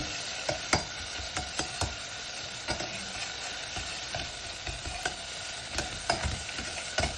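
Pepper paste sautéed with onions in a pan: a steady low sizzle punctuated by regular, sharp spoon taps and scrapes against the pan.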